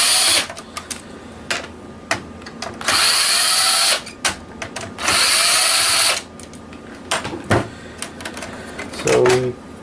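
A power tool whirs in several loud bursts while the heatsink clamp is worked off an old PlayStation, with clicks and clanks of metal parts between the bursts.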